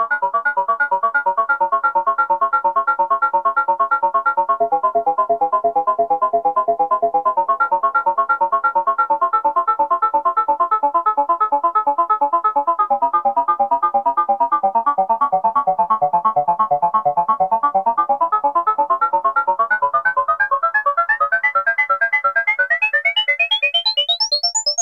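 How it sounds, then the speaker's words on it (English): A Moog Matriarch synthesizer runs a steady, fast arpeggiated pattern while the filter is swept, the tone shifting darker and brighter and rising sharply near the end; loud, continuous and alone. "with the arpeggiator playing, I'm just going to sweep the filter and experiment a bit to give us an idea of the different sounds we can get"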